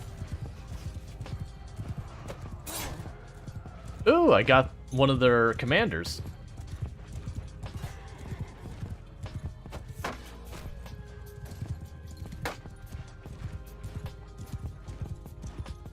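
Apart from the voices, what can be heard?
horses galloping in Mount & Blade II: Bannerlord battle, video game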